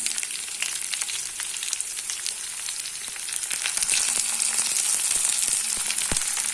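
Onions fry in hot oil for a fish curry, a steady, close sizzle that crackles with small pops and grows slightly louder partway through, with no voices.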